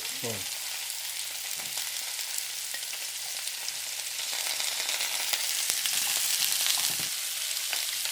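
Onions sizzle in hot oil in a pan for pork curry with a continuous hiss that grows a little louder near the end, plus a few light clicks and no talking.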